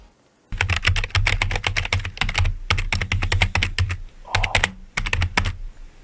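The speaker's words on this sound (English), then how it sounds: "keyboard, typing away" Fast, steady typing on a computer keyboard, with crisp clicking keystrokes in quick bursts and a brief pause before the rapid tapping resumes, close and loud, with no voices.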